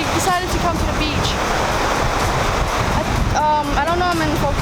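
Ocean waves wash steadily at a bright beach under strong wind buffeting the microphone, and a voice speaks briefly at the start and again near the end.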